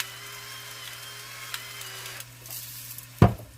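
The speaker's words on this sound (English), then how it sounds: "so now we're going to go ahead and let this saute" Bottom round roast beginning to sauté in a heating Ninja Foodi Possible Cooker Pro, a faint sizzle over a steady appliance hum, closing with a sharp clatter.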